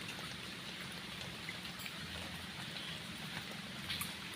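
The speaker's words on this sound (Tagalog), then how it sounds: "ulan na naman" Steady rain falls outdoors near a crab-catching spot, a faint, even patter of drops hissing on surfaces with no voices over it.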